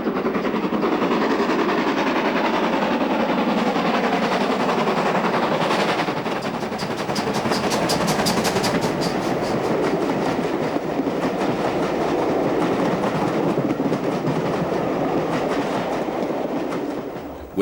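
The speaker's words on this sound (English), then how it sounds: "accelerates a southbound train over the newly installed double-track section" A locomotive accelerates a southbound train over a double-track section, rumbling and clattering loudly, with rapid rhythmic clickety-clack from the wheels and a steady engine roar building throughout.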